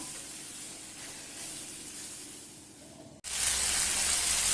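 Sliced carrots hit hot oil and burst into a loud, bright sizzle after a quieter stretch of low frying hiss, the crackle continuing close and steady.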